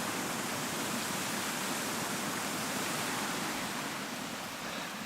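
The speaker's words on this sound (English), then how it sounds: "It's not a proper waterfall." A small waterfall at Fawsley, Northamptonshire gives off a steady, even rush of falling water, faint and continuous throughout with no voices.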